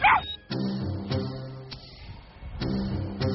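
Dog barking in a series of sharp, fairly close barks spaced about half a second apart, with a short vocal burst at the start.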